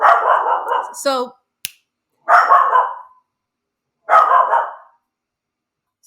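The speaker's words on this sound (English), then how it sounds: "we don't hold back, even if there's doggies barking." A dog barks three times in loud, close, separate bursts about two seconds apart, with a brief spoken word just before the second bark.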